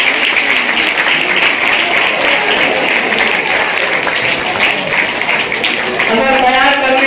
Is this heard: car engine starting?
no